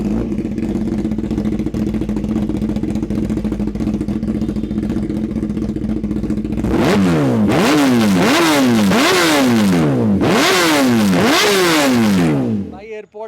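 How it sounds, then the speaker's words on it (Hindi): A 2017-model superbike engine idles steadily, then revs hard in a series of loud, rising and falling bursts before cutting off. "एक बार आप आवाज सुनो बाइक की।"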